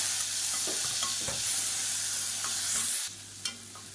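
Tomato, onion and garlic fry in a pan with a continuous close sizzle and occasional stirring scrapes, ending with a sharper clatter and quieter sizzling in the last second.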